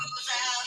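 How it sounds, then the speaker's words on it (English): A mobile phone ringtone gives a brief, bright electronic chime with a rising warble, fairly close and lasting under a second. "Oh, that's my phone."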